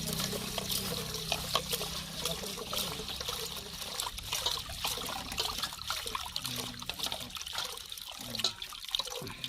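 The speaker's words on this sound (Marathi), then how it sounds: "तांदूळ धुवून घेऊया मस्तपैकी." Water splashes and trickles as rice is washed by hand in a home kitchen, a continuous faint sloshing and dribbling with small irregular splashes, no talking.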